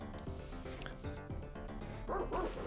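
Dogs bark and yip in the Earthworm Jim platform video game, several quick barks mixed into busy game music and effects, with a louder pair near the end.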